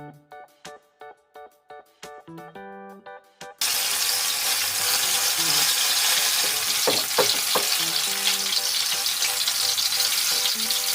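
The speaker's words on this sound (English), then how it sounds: "So I'll just wait for the onion to fry a little" Chopped onion drops into hot oil and starts frying for Nigerian puff puff: after a few seconds of quiet knocks and clicks, a sudden loud, dense sizzle bursts in and holds steady, with occasional small pops.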